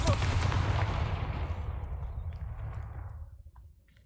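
The Confringo blasting spell is cast in Hogwarts Legacy, a loud booming explosion that rumbles and fades over a few seconds.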